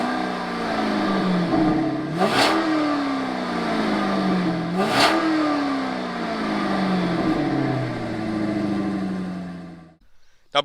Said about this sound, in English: let's start up the XLR and see how the Northstar sounds